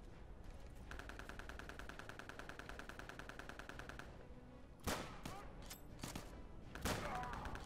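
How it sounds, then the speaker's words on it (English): Thompson submachine gun in Return to Castle Wolfenstein firing a long rapid burst, then a few shorter sharp bursts and single cracks, fairly loud against background game noise. "Let's try the Thompson."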